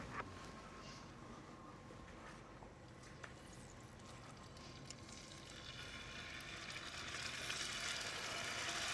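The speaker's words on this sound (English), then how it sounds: "Now we're getting that sizzle." Beef steak sizzles in a hot pan, a soft crackling hiss that builds in loudness over several seconds and becomes brighter and more intense toward the end.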